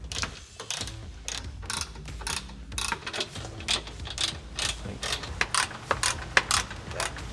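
A hand ratchet loosens 11mm bolts holding the air dam on a RAM 1500 pickup, giving close, rapid clicking bursts in an uneven rhythm with short pauses between strokes.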